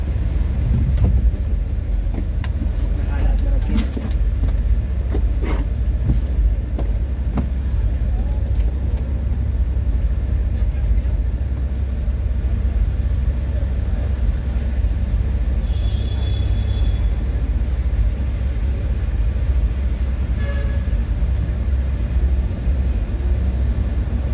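A bus rolls through traffic on a Cubao–Pasay route, giving a continuous low rumble and road hum throughout, with faint passing vehicles outside.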